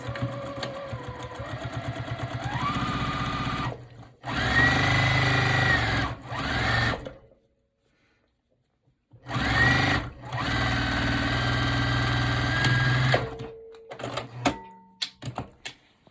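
A sewing machine stitches the side seams of a tote bag made from a T-shirt, using a half-inch seam, running in steady bursts of a few seconds broken by short pauses and a longer silence.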